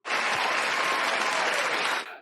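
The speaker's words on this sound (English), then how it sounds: "I think that deserves a round of applause." A burst of crowd applause, dense and even, lasting about two seconds before cutting off abruptly.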